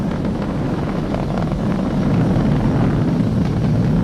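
Falcon 9 rocket engines thunder during launch ascent as SpaceX and NASA send astronauts to the space station: a continuous loud broadband roar rumbles steadily throughout without pauses.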